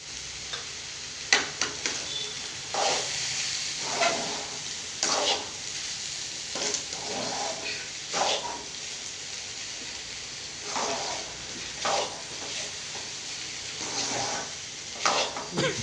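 A spatula repeatedly stirs and scrapes coconut poriyal frying in a pan, with a soft steady sizzle under regular scraping strokes every second or two, fairly quiet and close.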